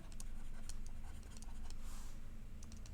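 A pen scratches across paper in short, quiet strokes and taps as math is written out, close and alone without talking.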